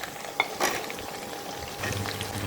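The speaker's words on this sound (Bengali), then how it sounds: "আমটাকে ভালো করে ভেজে নিতে হবে।" Mango pieces fry in oil with panch phoron and green chili for pickle, giving a close, even sizzle with soft scraping from stirring and a couple of small utensil clicks.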